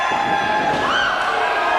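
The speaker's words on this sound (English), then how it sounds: "His hometown crowd showing their love for Ace Myles here." A hometown crowd at a wrestling show in Rossford, Ohio, cheering for Ace Myles: a loud, sustained roar of massed voices with a brief rising whoop partway through.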